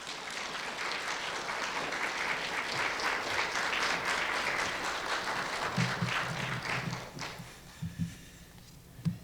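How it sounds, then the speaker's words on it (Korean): A Korean church congregation claps warmly to welcome the pastor at a revival meeting, a sustained burst of applause that tapers off near the end with a few scattered claps. "이 시간 우리 목사님 나오실 때 뜨거운 박수로 환영해 주시면 감사하겠습니다"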